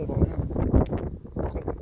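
Warm gusting wind ahead of a thunderstorm buffets the microphone in three strong rushing pulses, loud and close, with no other sounds standing out.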